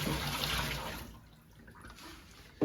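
Water is poured out of a reverse osmosis filter tank, a Osmo Fresh Fusion Air, as a steady splashing gush that fades to a quiet trickle, then ends with a short splash.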